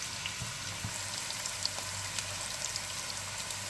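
Onions sizzle as they fry in a preheated pan for chicken dum biryani, making a steady, even hiss with scattered faint crackles and no talking.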